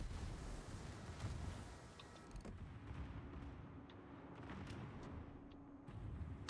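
Enemy ships fire on the player's ship in a naval combat game, heard as faint, distant rumbling booms and muffled explosions, some scattered cracks, all low in level beneath a dull ambient drone.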